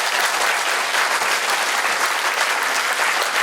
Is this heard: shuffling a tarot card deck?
no